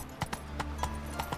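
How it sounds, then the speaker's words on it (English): Horse hooves clip-clop at a steady walking pace in The Witcher 3, ridden across the Skellige Isles, with about six distinct hoof strikes standing out over a continuous low background rumble. "Alright, horse. Away we go."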